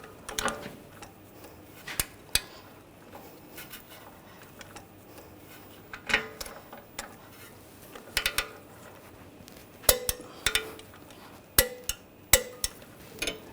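Ratchet tightening a tie rod stud nut on a 2009-2010 BMW 535 xDrive, with clusters of quick metallic clicks in irregular bursts separated by pauses, close and moderately loud.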